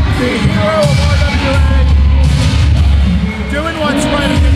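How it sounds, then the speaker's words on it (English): Wrestling arena crowd roaring, cheering and yelling at a pro wrestling show, a loud, dense wall of voices sustained throughout with scattered whoops and shouts rising above it. "Wow, is this crowd going nuts?"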